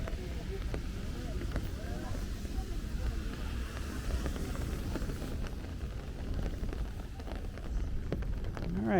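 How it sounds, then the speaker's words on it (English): Hard rain pours onto a Brooklyn side street in Sunset Park, a steady dense hiss and patter that carries on without a break, with some low traffic rumble and faint voices mixed in. "so we're getting some hard rain now"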